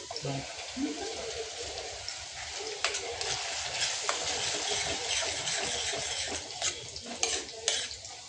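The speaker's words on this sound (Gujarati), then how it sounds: "ડુંગળી સતળાઈ ગયા બાદ ટામેટાની પ્યુરી નાખી દઈશું" Tomato puree going into sautéed onions in a pan for Mexican rice, heard as steady stirring and scraping with light clinks of utensil on pan over a soft, continuous sizzle, close by, with voices talking intermittently.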